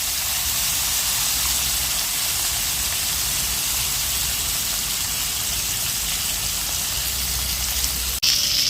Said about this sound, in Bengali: এখন মাছের মাথাটা একটু ভেজে নিচ্ছি